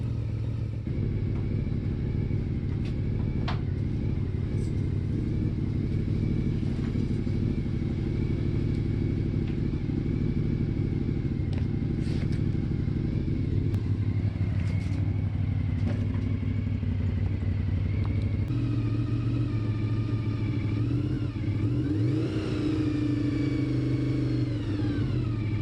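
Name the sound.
Honda motorcycle engine running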